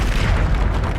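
A Descendo spell hits in Hogwarts Legacy with a loud, close, booming impact that rumbles for about a second.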